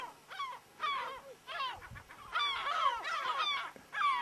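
Gulls on a rocky island call over the sea, with a close flock giving repeated harsh, rising squawks and cackles that overlap in rapid bursts, loud and clear against the open air, with no voices.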